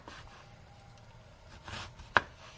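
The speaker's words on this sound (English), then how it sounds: "Make sure you're chopping very carefully" A kitchen knife chops through a round vegetable on a cutting board: one sharp, close chop rings out near the end, with light board handling and soft kitchen noise before it.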